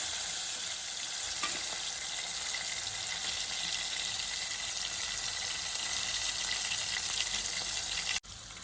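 Finely chopped tomatoes and chillies fry in a kadai in an asafoetida tempering, a continuous loud sizzle with a faint scrape early on and a brief cut near the end.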